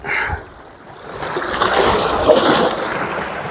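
Sea waves wash and splash around a small fishing boat off North Wales, a steady broadband surge with wind, louder swells rising after a brief lull.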